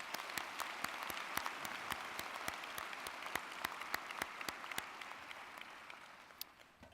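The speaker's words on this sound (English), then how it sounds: "Please join me in a round of applause for Chancellor Norris." A large audience at a university commencement applauds steadily for several seconds, dense clapping with a few sharp individual claps standing out, fading slightly toward the end.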